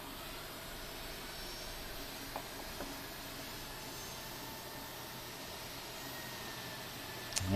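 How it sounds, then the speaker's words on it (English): An Airbus A330's engine 2 spools up in a Prepar3D flight simulator as a faint, steady jet whine and broadband rush with no distinct peaks. "There's engine 2 alive"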